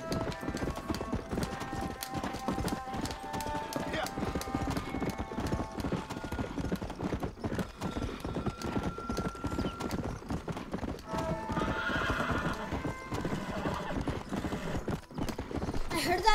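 Rapid clip-clop of a fast horse's galloping hooves in the video game Red Dead Redemption runs steadily throughout, loud and close, with an occasional whinny and some game background sounds mixed in.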